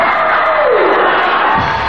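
A large crowd at an outdoor event in Estonia cheers and shouts loudly and steadily, the roar of many voices filling the whole stretch without a break.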